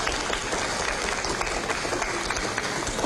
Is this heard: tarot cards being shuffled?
no